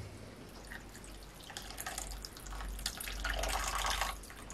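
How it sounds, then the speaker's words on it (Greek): Lukewarm water poured over caul fat spread in a small baking pan for stuffed liver rolls: a soft, steady trickle and splash that builds slightly louder toward the end, heard alone and fairly quiet. "θα την σκεπάσουμε με χλιαρό νερό"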